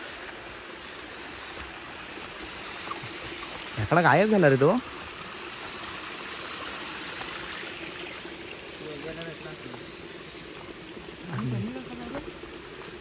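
A river stream flows steadily in the background, a soft continuous rush, while someone speaks briefly and other voices come and go.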